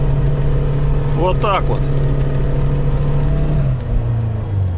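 A Lada Niva 4x4 stuck in snow holds a steady, close engine drone under a brief spoken phrase, then the engine note drops lower near the end.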